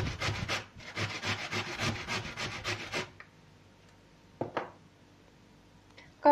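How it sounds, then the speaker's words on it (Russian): Potato is grated on a fine grater for pork chops. Rapid, rhythmic rasping strokes sound close and loud for about three seconds, then stop, leaving near silence broken by a couple of brief handling knocks. "Теперь картофель натираем на мелкой терочке."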